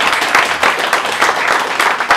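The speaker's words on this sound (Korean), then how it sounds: "우리 박동지한테 손뼉 한번 줍시다" Dense, steady applause from an audience at a book launch party honoring a Samsung Electronics employee's book, a crowd clapping close up with no pauses.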